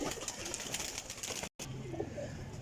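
Soft, low cooing from a Teddy golden pigeon in a quiet indoor space, broken by a brief gap of silence before the gentle calls resume.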